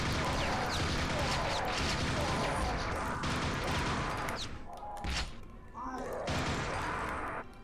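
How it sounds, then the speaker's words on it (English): Rapid Nail Gun fire in Quake: Scourge of Armagon, heard as a dense, continuous clatter of shots mixed with impacts and game noise. The fire breaks off briefly near the end, then resumes. "The regular Nail Gun will more than suffice. As we just demonstrated."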